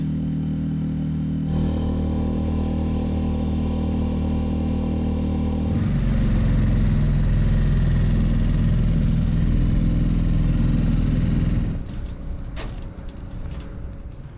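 A small dinghy outboard motor runs steadily on the way ashore, a close, loud buzzing drone that shifts pitch and grows louder partway through as it speeds up, then eases back near the end.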